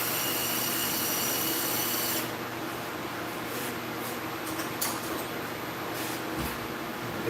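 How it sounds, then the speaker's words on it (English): A machine vise on a SYIL X7 CNC mill is taken apart to fit soft jaws, giving close metallic rubbing, scraping and light tool clicks over steady machine-shop background noise. "So let's take this vise apart and put the soft jaws on."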